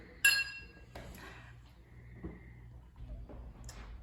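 Wine glasses meeting in a toast give one bright, ringing clink that decays slowly, followed by faint thuds and soft handling noises nearby.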